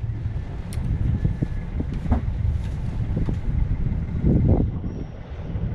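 Steady wind buffets a sailboat at sea during a Caribbean crossing toward Dominica, a continuous rushing roar with gusty swells.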